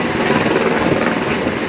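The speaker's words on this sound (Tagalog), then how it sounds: "Kasalukuyan na pong nililisan ng helicopter na TPC 6209 ang Marinduque Airport" A helicopter, registration TPC 6209, takes off from Marinduque Airport, its loud, steady rotor and engine roar filling the air continuously and close by, with no talk.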